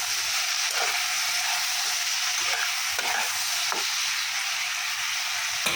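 Turmeric is stirred into potatoes and flowers in a hot pan, a continuous soft sizzle with a few quiet scraping strokes of the spoon.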